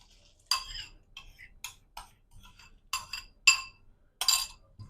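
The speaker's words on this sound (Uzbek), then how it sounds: "Aralashtirib olamiz." A spoon clinks against a bowl while cream, sugar and yeast are stirred together, giving about eight sharp ringing taps in an irregular rhythm, close by and moderately loud over a quiet background.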